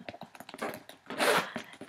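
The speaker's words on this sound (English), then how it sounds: "and it zips very easily." Zipper on the pocket of a Prada designer handbag being opened and closed, a couple of quick scratchy zipping runs close up, with small handling rustles in between.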